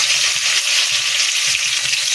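Chopped green beans frying in hot oil, a loud, dense, steady sizzle with a faint pulsing stir underneath, heard up close with no speech.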